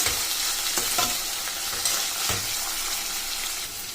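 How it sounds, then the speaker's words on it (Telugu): Toor dal fries in oil and is stirred in a pan, making a loud, continuous, close sizzle with scraping strokes from the spoon, and no one speaks. "ఇప్పుడు మనం కందిపప్పులోని పచ్చివాసన పోయే వరకు కలుపుకొని పెట్టుకోవాలి"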